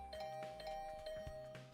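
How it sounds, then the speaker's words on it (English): A video game doorbell chimes in a quick flurry of repeated rings, with a steady electronic tone over light background sounds throughout a short stretch. "I didn't like the sound of that flurry of doorbell rings."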